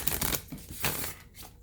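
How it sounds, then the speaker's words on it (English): A deck of tarot cards is shuffled in a few quick, soft riffling bursts with brief pauses between them, heard close up and fairly quiet with no talking. "So one more time, I'm going to shuffle."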